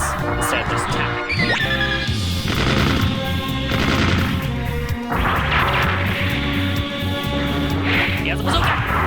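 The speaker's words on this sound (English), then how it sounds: "if I hold the fire button for slightly longer, I'll fire more shots, instead of just tapping." Volleys of mech gunfire in Mobile Suit Gundam: Federation vs Zeon DX, rapid repeated shots and crashing impacts over game music and effects, with a player talking over the action.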